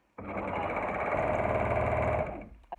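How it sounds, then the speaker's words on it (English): An overlocker serger set to a 5 mm stitch runs steadily, joining the unpressed edges of a jelly roll scrunchie in one continuous close, loud whirring stitch run of about two seconds, then stopping. "I'm just going to overlock the 2 edges together that are not pressed"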